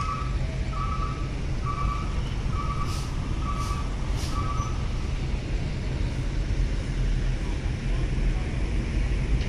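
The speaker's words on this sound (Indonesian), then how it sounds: "antrian kendaraan truk di Dermaga Express" Trucks idling in a queue at the Dermaga Express ferry port, a steady low engine rumble throughout with a repeating reversing beep in the first half and a few brief hissing bursts, like air brakes.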